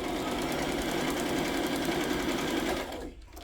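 A sewing machine stitches a flip-flop in a steady, fast mechanical whir, close and continuous before slowing and stopping near the end.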